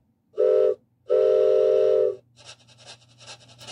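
A loud steam-style train whistle in the Reader Rabbit video game blows twice, a short blast then a longer one, followed by rhythmic chugging puffs.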